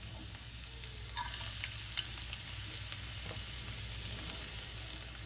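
Chopped garlic and ginger frying in soybean oil give off a constant, fairly quiet hiss with occasional sharp pops and light stirring, with no voices.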